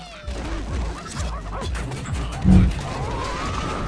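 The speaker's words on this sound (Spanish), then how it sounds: "Uy, salieron tres perros de aquí." Dogs bark and yip in The Simpsons Game, with short repeated barks mixed into busy game sounds and a louder crash partway through.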